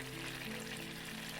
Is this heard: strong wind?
no